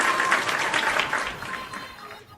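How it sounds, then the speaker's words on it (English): Brief audience applause welcoming a guest on a live wrestling show, moderately loud at first and fading over about two seconds. "Round of applause."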